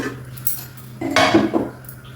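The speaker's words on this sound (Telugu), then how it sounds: "కుక్కర్ కొంచెం వేడెక్కిన తర్వాత ఇలా కుక్కర్లో పెట్టేసేయండి." Stainless idli plates filled with beetroot curd idli batter are set into a warmed pressure cooker, giving a brief, close burst of metallic clinks and scraping midway through, with a quiet background before and after.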